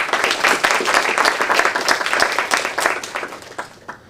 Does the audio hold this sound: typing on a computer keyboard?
no